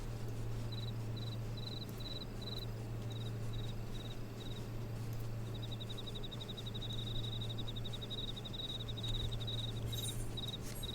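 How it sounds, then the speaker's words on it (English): Crickets chirp in Final Fantasy XIV, a steady series of short high trilled bursts, some grouped and some running as a continuous rapid pulse, over a constant low ambient hum with no talk. "Listen to those crickets."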